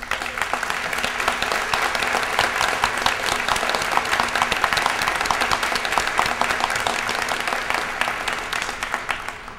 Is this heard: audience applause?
yes